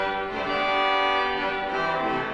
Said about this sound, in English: I'm going to take you straight to the trumpet because that's a survivor from the previous incarnation